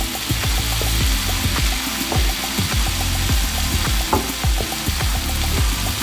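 Shrimp stir-fried with black pepper in a pan, sizzling loudly and continuously while a utensil scrapes and clacks against the pan in a quick, repeated rhythm; no one speaks.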